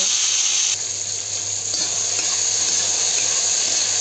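Fish frying in a kadai (wok) is stirred, with a ladle scraping and clicking against the pan over a continuous loud sizzle, close by.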